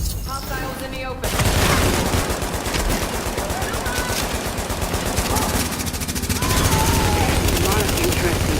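Heavy gunfire erupts in The Division video game, with dense rapid bursts and booming shots sustained for several seconds after a brief quieter moment, and a voice heard faintly beneath the gunfire.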